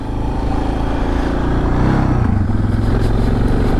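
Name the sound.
motorcycle revving in the distance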